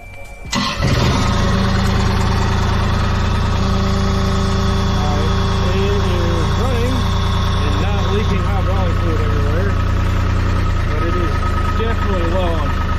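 A CAT 303.5 mini excavator diesel engine cranks and catches, then settles into a steady, loud idle with a constant low rumble that holds to the end, while a person talks over it.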